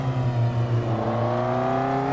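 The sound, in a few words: car engine sound fading between sounds, Assetto Corsa video game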